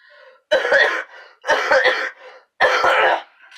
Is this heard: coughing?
yes